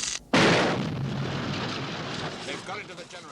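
A sudden loud explosion of a parked vehicle in a film bursts after a brief quiet, followed by a long roaring rumble of fire and debris that slowly fades.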